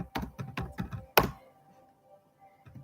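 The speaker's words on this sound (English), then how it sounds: "Now I'm typing this affirmation" Fingers type a quick burst of keystrokes on a computer keyboard close by, a rapid run of soft clicks ending in one sharper, heavier tap, followed by near silence and one faint final click.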